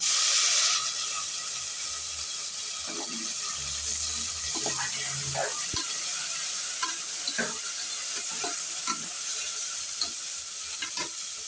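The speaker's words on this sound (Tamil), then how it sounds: "வெங்காயம் நல்லா வதங்கிடுச்சு அதுக்கப்புறம் நம்ம தக்காளி போட்டுடலாம்" Onions and tomatoes sauté in a pan for a goat head curry, a faint steady sizzle with scattered stirring clicks and scrapes against a hiss, no talk heard.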